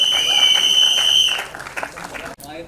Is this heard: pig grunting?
no